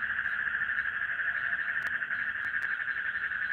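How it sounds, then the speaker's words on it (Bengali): Frogs and crickets call together on a village night, a steady, dense high-pitched trill with a few sharp clicks, loud and continuous with no talk. "ব্যাং ডাকছে, ঝিঝি পোকা ডাকছে স্যার।"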